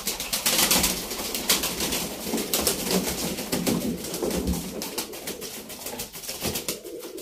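Pigeons coo softly amid a busy background of rustling and bird noise, with low repeated coos continuing throughout, no talking.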